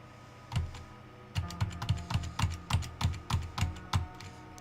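Keys tapped on a computer keyboard in a quick burst of about a dozen crisp clicks after a single opening tap, close and moderately quiet with no talking.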